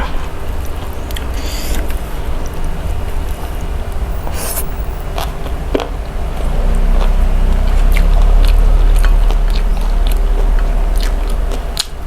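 Chewing on chewy black mushrooms and steamed rice with chili dip, close-up wet mouth sounds and soft bites repeating steadily over a low background rumble, with no talking.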